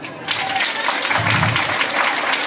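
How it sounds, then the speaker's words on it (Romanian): Schoolchildren applauding at a school-year opening ceremony in a Romanian middle school, a loud sustained burst of crowd clapping that swells after a brief quieter start and fills the space. "vă rog, aplaudați!"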